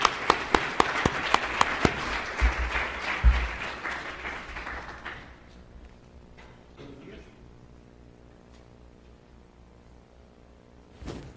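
An audience at a talk for an IPv6 Task Force event in Mexico gives applause. A few sharp claps open it, then steady clapping builds and fades over about five seconds, leaving a quiet room.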